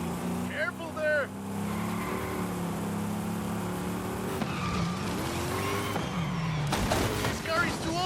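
An old car is driven hard in Forza Horizon 5 in Mexico, its engine droning with shifting pitch and tires squealing and skidding, close and steady, while people talk over it.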